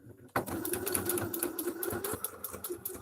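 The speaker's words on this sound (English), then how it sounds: "we're going to sew across like we did earlier" Sewing machine stitching straight across a ribbon on a tiny doll purse, a steady close whirring run of needle strokes that starts abruptly after a brief pause and continues for about three seconds.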